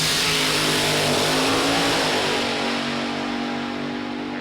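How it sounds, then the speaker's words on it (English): A drag racing car launches hard off the line at a qualifying session, its engine giving a loud, dense roar that holds steady and then tapers slightly, with no talking. "For Tony, launched, came off the line"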